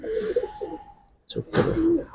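Kaldom pigeons coo in a low, throaty murmur, one bout running through the first second and a louder, fuller burst after a short pause, close by with faint background noise.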